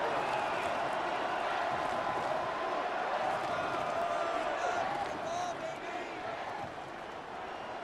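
A stadium crowd in the Madden 26 football game makes a constant roar that fades slightly near the end, heard during a Chiefs versus Raiders matchup.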